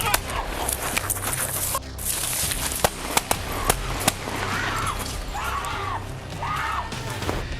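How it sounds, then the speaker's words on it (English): Police officers and an armed woman exchange gunfire: several sharp, loud cracks ring out in a quick, uneven burst amid struggling noise and shouting, then screams and cries follow. "Joana tried to open fire with a gun she had hidden in her waist. Thankfully, her shot narrowly missed, and the officers fired back"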